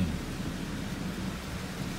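Thunderstorm outflow wind gusts across Tampa Bay near St. Petersburg, Florida, producing a steady, loud rushing roar with low rumble and no speech.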